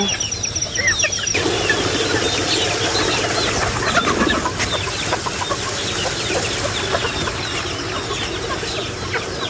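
Hungry chickens cluck and squawk in a dense, continuous chorus while waiting to be fed, with occasional wing flaps among steady outdoor noise.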